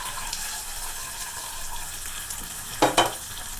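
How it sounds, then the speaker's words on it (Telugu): A hot tempering of crushed garlic, mustard seeds, two dried red chillies, curry leaves and a pinch of asafoetida is poured into Andhra-style amaranth leaf dal, giving a short, loud sizzle near the end after a steady low background hiss. "తాలింపు ఇందులో వేసుకుందాం."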